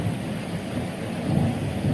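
Heavy rain pours steadily during a thunderstorm over a corn field being planted, with a low rumbling roar of thunder under the dense hiss of falling rain, no voices.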